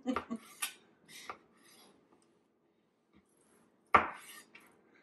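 A Nakano kitchen knife cutting chicken breasts: a few quiet taps and clicks on a board, then one sharper scrape and clatter near the end, mostly sparse and close, with no talking.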